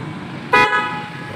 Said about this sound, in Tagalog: yan po yung G-Star double horn